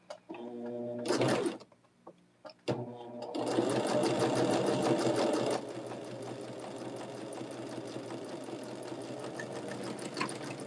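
Sewing machine stitching a quilt block along the fold, starting with two short bursts of rapid mechanical clatter, then a long steady run of stitching that eases slightly toward the end.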